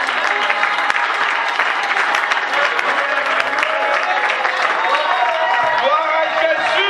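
A church congregation bursts into dense, sustained applause, many hands clapping close and loud throughout, with voices calling out beneath the clapping.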